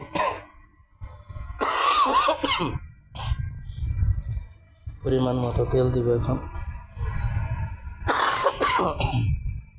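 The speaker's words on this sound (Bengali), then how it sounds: "একটু ঠান্ডা লেগছে তাই একটু কাশি আসে" A person with a cold coughs and clears their throat while making a chanachur-muri snack in a kitchen. A few short, sharp coughing bursts come between stretches of speech.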